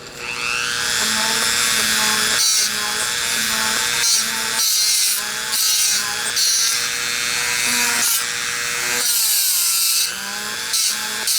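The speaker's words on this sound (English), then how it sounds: "I take my little Dremel that I have here" A small Dremel rotary tool drills at an angle into a hand-carved wooden figure, giving a loud, close, whining buzz that rises and falls in pitch as it bites and eases off, with several brief pauses between bursts.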